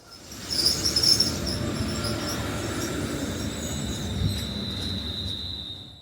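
A passenger train near Runcorn rumbles steadily along the rails with a high, sustained wheel squeal, and faint insect chirping sits above the noise.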